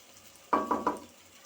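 Pasta gets stirred through tomato sauce in a pan, three quick scraping strokes over a faint simmering hiss.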